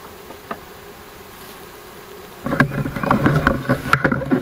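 Honey bees buzz inside an open hive, a soft hum at first that swells after a couple of seconds into a dense, close, busy drone with irregular crackles and bumps.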